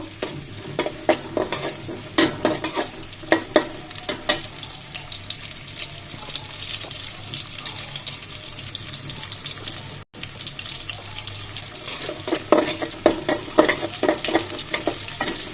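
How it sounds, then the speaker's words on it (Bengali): Onion and garlic frying in oil, a continuous close sizzle punctuated by repeated clacks and scrapes of a spatula stirring in the pan, with a brief dropout partway through and no speech. "পেঁয়াজটাকে লাল লাল করে ভেজে নিব।"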